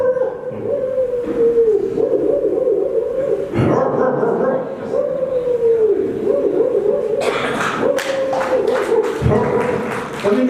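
A voice imitates village dogs barking at a live alumni gathering, with wavering yips, whines and barks close up, and noisy bursts from the audience near the end.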